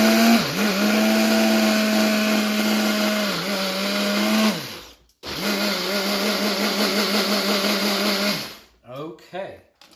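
A blender pulses smashed peas with the lid on: two long, loud whirring bursts with a short gap between, then a few quick short pulses at the end.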